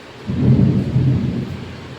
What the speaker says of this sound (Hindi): तो बादल गरज रहे हैं।